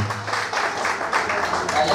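Audience applause at a business seminar: a dense, continuous wash of clapping from a crowd, fairly loud and even throughout, with a voice faintly mixed in.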